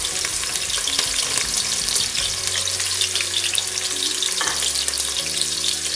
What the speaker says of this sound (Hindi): ऑयल गरम हो गया है, इसमें हम प्याज डालेंगे। प्याज हम अपनी लाइट ब्राउन करेंगे।